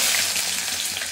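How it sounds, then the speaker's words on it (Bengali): Chopped onion hits hot oil with a loud, dense burst of sizzling hiss that holds steady and close for about a second before dropping off. "এখন এই গরম তেলের ভিতরে দিয়ে দেবো হচ্ছে পেঁয়াজ কুচি"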